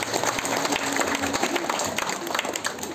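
Applause and claps from the audience at a Balinese bondres comedy performance, a dense steady patter of clapping with crowd noise mixed in and voices faintly underneath.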